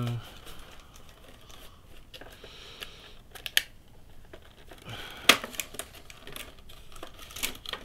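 Wootbox subscription box for February 2019 being opened, with scattered crinkles, rustles and sharp packaging snaps, a few louder clicks standing out, fairly close over faint background.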